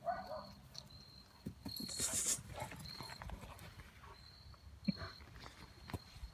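Great Pyrenees dog wrestling with a pig, scattered thumps, scuffles and shuffling footsteps close by, with a few brief squeals and snorts breaking through at moderate loudness.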